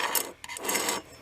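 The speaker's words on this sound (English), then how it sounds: "We're going to sand these first with our drum sander," A drum sander works a piece in a propane-tank stove project, giving two close, rasping sanding bursts within about a second, separated by a brief lull.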